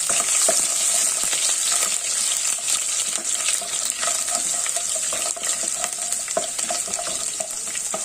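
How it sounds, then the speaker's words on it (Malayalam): Mustard seeds and fenugreek spluttering in hot oil with curry leaves, garlic and ginger sautéing for a white gooseberry pickle: a steady close sizzle dotted with sharp pops and crackles, with no talking. "നമ്മുടെ കടുകും ഉലുവയും പൊട്ടി വരുന്നു അപ്പം നമുക്ക് കറിവേപ്പില ഇടാം"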